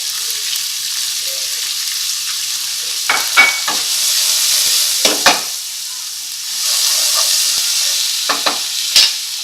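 Onion and garlic sizzle in olive oil in a pan, a steady frying hiss punctuated by several sharp scraping stirs and clinks, close and moderately loud, with no talking.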